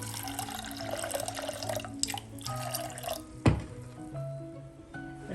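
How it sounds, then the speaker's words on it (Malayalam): Water pours and splashes into a pot of chana dal being readied for cooking, a close, fairly soft running and trickling sound broken by one sharp clunk partway through. "കുറച്ച് വെള്ളം കൂടെ ഒഴിച്ച്"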